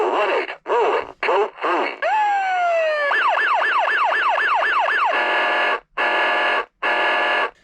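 A battery-powered Funrise 1994 Metro City toy ambulance siren, loud and close, cycling through electronic wails, a rapid yelping warble and pulsing bursts separated by brief gaps, with no speech.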